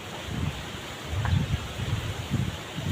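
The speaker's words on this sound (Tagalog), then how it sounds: "Malakas ang hangin dito guys." Gusty wind buffets the microphone in low rumbling bursts near a banana tree, with a soft rustling hiss in the background throughout.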